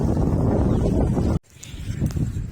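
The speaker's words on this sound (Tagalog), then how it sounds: "Grabe ka hangin jud mga choy." Strong wind buffets the microphone during an outdoor run: a loud, steady roar that cuts out abruptly partway through, then returns as softer, gusty rushing.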